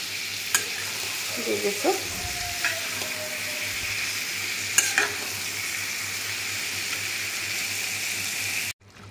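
Spice masala sizzles loudly in a pan with a little water added for a soybean curry, giving a steady frying hiss with occasional stirring clinks and a few brief spoken words.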